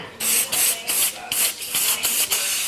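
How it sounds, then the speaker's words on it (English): A series of about eight quick, forceful bursts of disinfectant spray onto a hair clipper in a fairly regular rhythm, each a sharp hissing puff close to the listener. "we're gonna disinfect the clipper with some spray"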